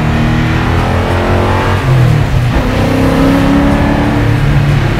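A naturally aspirated 700 HP Foxbody Mustang engine roars hard as it accelerates through the gears. The loud, close revving climbs in pitch and drops briefly at a shift.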